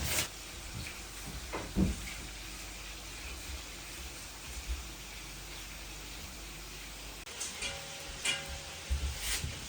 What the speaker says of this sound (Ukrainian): Ковбаска печеться